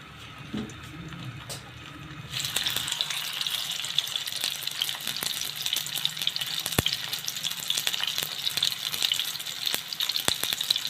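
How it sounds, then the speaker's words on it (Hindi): Chicken kababs are placed one at a time into hot oil in a pan over a medium flame. A quiet opening gives way to a loud, steady sizzle of frying that carries on throughout, with a few sharp clicks. "तो अब मैं एक एक करके कबाब डालती जाऊँगी इसको फ्राई करने के लिए।"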